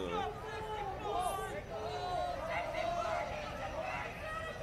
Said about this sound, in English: There's still probably 150 people here. There's still a pretty good sized crowd.